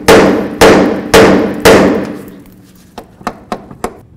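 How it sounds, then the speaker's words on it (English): Four loud metallic hammer blows ring out in a steady rhythm against the lower ball joint area of a 1998-2002 Honda Accord, followed by four lighter, quicker taps. "Now we're gonna use our hammer and bonk right along this area here."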